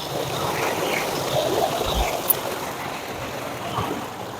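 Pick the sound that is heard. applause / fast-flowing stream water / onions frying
fast-flowing stream water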